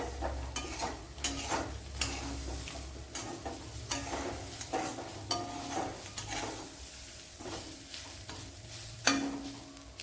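Ingredients for chammanthi podi, including ginger, frying in a pan: a continuous sizzle with repeated spoon scrapes and stirring strokes throughout, close and fairly quiet.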